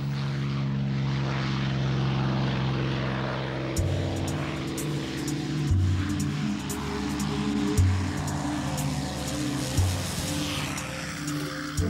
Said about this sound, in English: The P-51 Mustang.